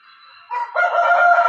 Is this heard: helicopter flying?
no